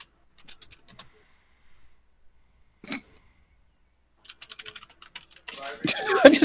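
Computer keyboard typing during an online Dungeons & Dragons session, sparse soft key taps at first, then a quicker burst of clicks building to louder, busier clatter near the end.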